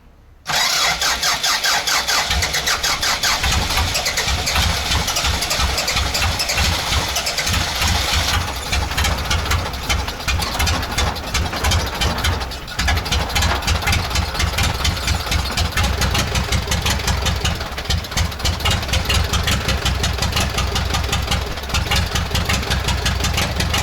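A D-240 diesel engine fitted in a ZIL truck runs rough on only two cylinders, with a loud, continuous, uneven knocking clatter close by for the whole stretch.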